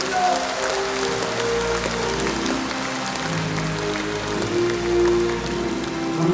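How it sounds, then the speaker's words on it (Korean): An indoor audience claps steadily in a dense wash to open a Bareun Salgi movement education session and special lecture, with sustained musical tones playing beneath the applause. "다 같이 시작을 알리는 힘찬 박수 부탁드립니다."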